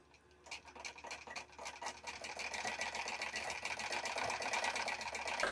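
Sewing machine stitching a blouse seam slowly, a steady whirring motor with fine rapid needle ticks that builds gradually louder and runs on continuously with no voices.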